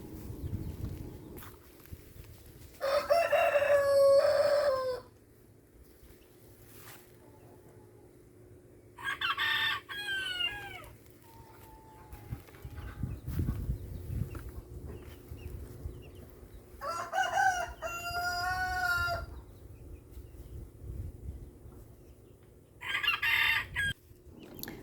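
Backyard chickens in a small coop, with a rooster crowing loudly several times in separate bursts while hens cluck softly in between, set against a low rumbling background.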